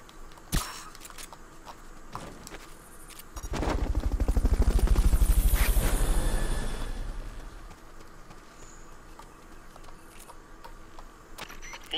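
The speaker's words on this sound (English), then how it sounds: "Fulton recovery to helicopter is complete." A helicopter Fulton recovery in the video game Metal Gear Solid: Peace Walker: a loud rushing whoosh with deep rotor rumble swells up, peaks and fades over about four seconds, with faint clicks before and after.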